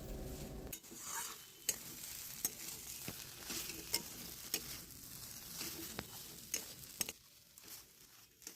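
Carrot kachori filling with chopped green chillies frying in a pan, a steady soft sizzle broken by repeated scrapes and taps of a spoon stirring, close and alone without talk.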